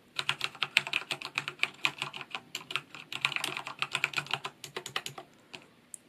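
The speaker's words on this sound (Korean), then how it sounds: "일반적으로 타이핑할 때 이렇게 치기도 하지만" Typing on a Corsair K68 RGB mechanical keyboard with Cherry MX Red switches: a fast, steady run of close, crisp key clicks and clacks, slightly uneven in rhythm, heard alone without talk.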